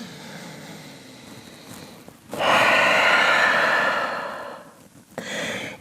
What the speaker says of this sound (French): Grande respiration ici.